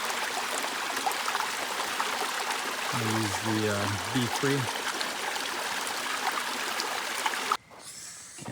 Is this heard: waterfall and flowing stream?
yes